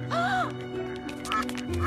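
A cartoon bird lets out a short burst of quacks, loud and close over background music, with a brief squawk later in the scene.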